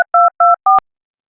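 Telephone dialing tones: three evenly spaced dual-tone beeps in quick succession, then a shorter fourth tone cut off by a click, clean and close with silence after.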